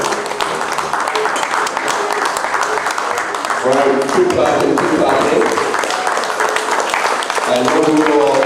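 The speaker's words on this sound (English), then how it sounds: "Right, keep clapping, keep clapping" Sustained audience applause and clapping fill a farming symposium hall, steady and dense throughout, with a speaker's voice cutting in over the clapping partway through.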